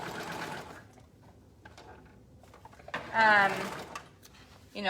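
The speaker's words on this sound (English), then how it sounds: "you do need to stretch while you sew this part, because now the elastic is already gathered" A domestic sewing machine stitches elastic into the back of pajama shorts in short whirring bursts, separated by pauses, with a brief louder run near the end.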